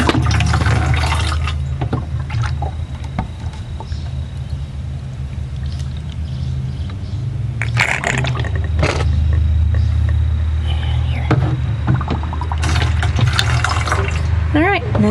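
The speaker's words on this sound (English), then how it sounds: "and then just pour water in" Water poured into a two-gallon jug in a backyard garden setting, a continuous loud filling rush lasting throughout, with a voice talking at moments over it.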